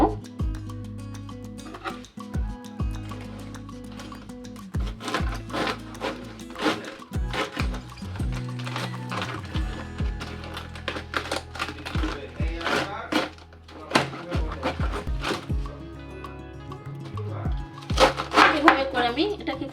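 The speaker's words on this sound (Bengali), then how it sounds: "আমি এই বাঁধাকপিটা কেটে নেব" Cabbage being cut with a knife on a board, a series of sharp close chops and taps in an uneven rhythm, with clattering between strokes and someone talking over it.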